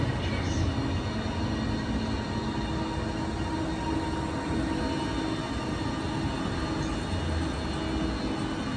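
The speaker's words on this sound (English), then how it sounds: "This train is full of 5 coaches." A five-coach TransPennine Express train at Penrith station, a steady low rumble and hum of the train at close range, continuous and moderately quiet.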